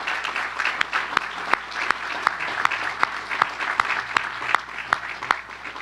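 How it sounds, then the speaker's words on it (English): An audience applauds steadily, a moderate crowd clapping with a few sharper individual claps standing out near the listener. "Let's give these folks a round of applause, please."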